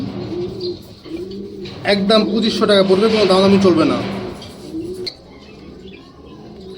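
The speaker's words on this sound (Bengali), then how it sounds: "এখন দেখতে পাচ্তেছেন এক পেয়ার আপনার রেসার কবুতর" Racing pigeons coo softly nearby while someone talks steadily over them, the low murmuring calls running beneath his voice.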